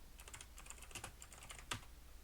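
Keystrokes on a computer keyboard while entering DOS commands on an MS-DOS/PC-DOS 3 machine: quiet, sparse clicks in a short irregular burst, with one sharper key press near the end and no voices.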